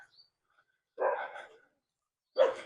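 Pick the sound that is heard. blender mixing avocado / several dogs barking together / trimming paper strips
several dogs barking together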